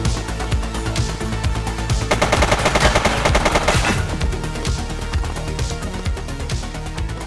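Rapid automatic gunfire from The Precinct on Xbox Series X crackles in sustained bursts, loud and dense, peaking in a heavy fusillade midway before tapering into scattered shots, with no talking.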